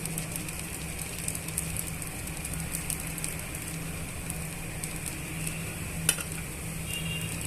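Dosa batter fries on a hot griddle with a steady, even sizzle and crackle, close and continuous, with one brief sharper click near the end.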